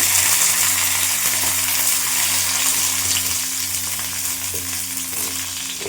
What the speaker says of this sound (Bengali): চলো এবার সমস্ত সবজিগুলোকে ভেজে নেব